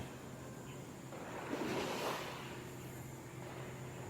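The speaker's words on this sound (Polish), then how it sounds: "Słyszysz szum morza, lekka, rześka bryza owiewa całe Twoje ciało." Soft, continuous wash of sea waves on a tropical beach, a faint steady surf roar with one gentle swell rising and falling in the middle, distant and calm with no voices.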